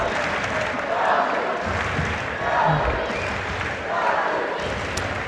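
Judo fans in the arena at a European club championship in Odivelas make a steady crowd roar with scattered clapping and cheering that rises and falls in waves, while a commentator talks over it.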